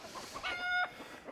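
Chickens in a mixed farm flock with bantam roosters and an Ayam Cemani rooster, giving a short burst of clucking calls that rise briefly over a quiet yard background, fairly close.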